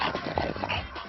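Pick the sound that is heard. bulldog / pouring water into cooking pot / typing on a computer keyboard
bulldog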